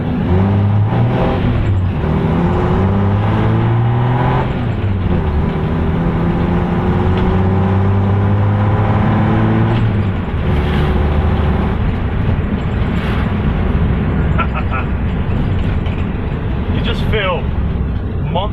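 A Toyota Landcruiser engine drones and rumbles loudly from inside the cabin while driving, its pitch climbing and dropping through several gear changes, with people talking over it much of the time.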